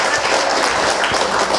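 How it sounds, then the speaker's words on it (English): An audience applauding, a short dense burst of clapping that fills the whole moment at steady loudness. "Everybody clap it up for yourselves."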